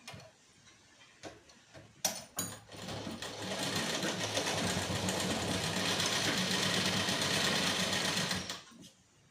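A sewing machine stitching a blouse sleeve runs in one steady, fast whirring burst for about six seconds, close and clear, preceded and followed by a few soft clicks from handling.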